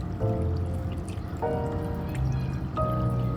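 Water trickles and drips in a small balcony garden waterfall, steady and close, with a few brief tonal chirps or squeaks over the flow.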